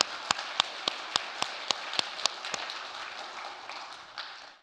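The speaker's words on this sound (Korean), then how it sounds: "우리 같이 한번 박수로 하나님께 영광을 돌려드리겠습니다." Congregation applauding in a church during a baptism service, sharp claps landing in a steady rhythm over a dense wash of clapping, fairly loud and close, fading out at the end.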